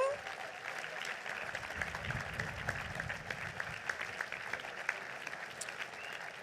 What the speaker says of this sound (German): nochmal einen ganz großen Applaus für die vier hier vorne